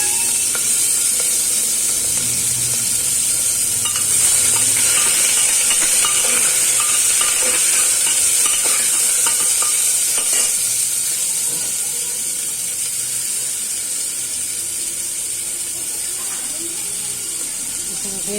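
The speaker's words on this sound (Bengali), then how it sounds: "চিকেনগুলো ভাজা হবে" Chicken pieces frying in a home kitchen pan give a steady, close sizzle with hiss and occasional stirring clatter, holding even throughout and easing slightly toward the end.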